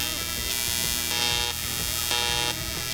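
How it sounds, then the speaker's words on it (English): Steady buzzing hum of a new Dynasty welder filling a bead roller hole in sheet metal on a mini monster truck build, continuous and close with slight pulsing swells. "Now we've got to weld up our hole from the bead roller. So I've got my new Dynasty."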